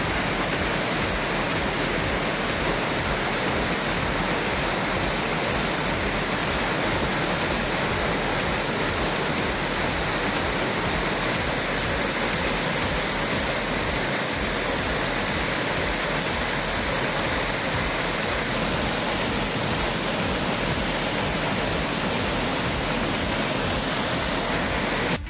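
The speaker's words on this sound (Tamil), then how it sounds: "இதனால் குற்றால அருவிகளில் தண்ணீர் ஆர்ப்பரித்து கொட்டுகிறது." Heavy torrent of water roaring down the Courtallam waterfalls in Tenkasi district, swollen after rain, a loud, steady, unbroken wash of falling water throughout with no voices.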